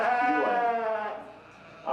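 A sheep at a county 4-H sheep show gives one drawn-out, wavering bleat close by, clear and loud, fading near the end.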